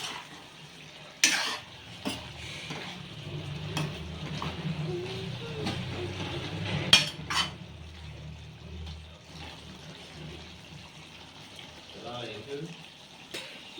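Soft scraping and stirring of chicken curry with spices and salt in a pan, faint sizzling underneath, occasional metallic clinks of a spoon against the pan.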